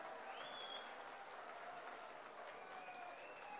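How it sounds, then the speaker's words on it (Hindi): A large crowd at an Indian political gathering applauds to welcome the politician Kamal Nath, a faint, steady wash of clapping that continues at even density for the whole stretch. "आदरणीय कमलनाथ जी के लिए जरा जोरदार तालियों से इनका स्वागत कर दे"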